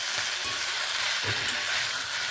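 Masala for a drumstick and katla fish curry sizzles steadily while being stir-fried, with soft, irregular scrapes of the spoon against the pan under a constant hiss.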